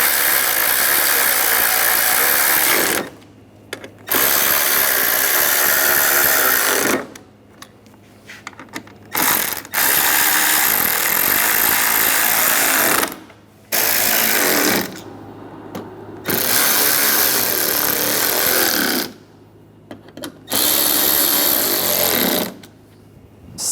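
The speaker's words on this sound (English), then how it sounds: "Tighten down the bolts." Power tool driving bumper bolts on a 2010-2014 Volkswagen GTI during a headlight swap, heard as repeated loud mechanical bursts of a few seconds each, separated by short pauses.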